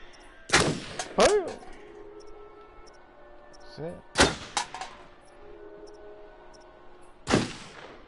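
Gunshots in the video game Until Dawn: three loud, sharp blasts spaced a few seconds apart, each with a ringing tail, with brief game noises and voices in between.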